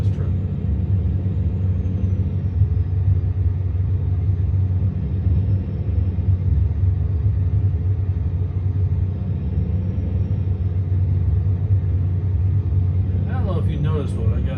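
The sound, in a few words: truck engine rumbling in American Truck Simulator video game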